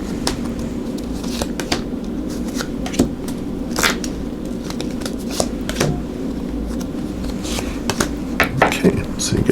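Tarot cards being shuffled and drawn from a deck, with repeated papery riffles, flicks and soft slaps of cards on a table, close up, under a steady low hum and faint background voice.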